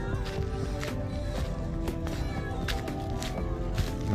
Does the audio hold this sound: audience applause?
no